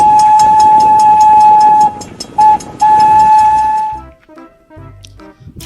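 A Thomas the Tank Engine toy train gives a long, shrill steam whistle blast, a short break and a second long blast, close and loud, followed by faint clicks and rustling.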